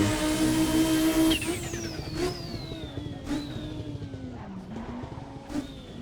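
An all-wheel drive race car drifting in a sim racing game, its engine holding a loud steady drone before easing off into a long sliding whine with brief tire squeals over a faint rumble, no one speaking.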